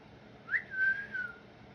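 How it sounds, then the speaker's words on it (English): A cockatiel gives a short, clear rising-and-falling whistle, a single phrase lasting about a second, fairly soft and heard alone against quiet room background. "That's my cockatiel Donald."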